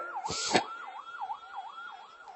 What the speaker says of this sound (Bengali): অ্যাম্বুলেন্স যাচ্ছে